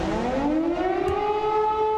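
Civil defense emergency sirens wail with a rising tone that climbs and then holds steady, loud and continuous throughout with no voices.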